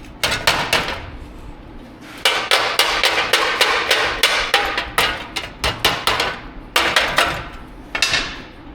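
Hammer blows straightening metal on a 1962 Chevrolet C10 pickup during restoration, a long run of sharp metallic strikes in quick uneven bursts, loud and close, with brief pauses between the volleys.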